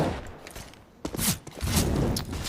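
A thrown grenade bursts in a Counter-Strike match on the Train map, arriving as a sudden broadband blast with rumbling debris, then a second swell of explosive noise and scattered impacts, loud and close, with no talk over it.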